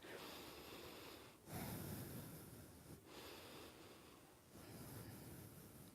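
Heavy, rhythmic breathing during a low-impact, high-intensity cardio yoga workout: long, forceful breaths in and out, close and fairly quiet, with no speech.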